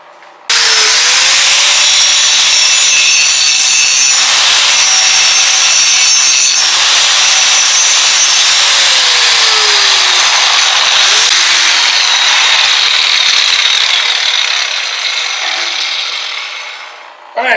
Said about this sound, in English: we're going to get our grinder. We're just going to try to grind these out so it fits to this.